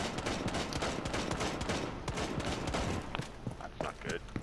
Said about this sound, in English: I think he's trying to open a hatch with his fucking gun.